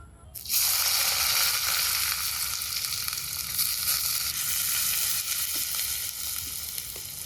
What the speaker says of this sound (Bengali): এই গরম সর্ষের তেলে আগে দেবো পেঁয়াজ কুচি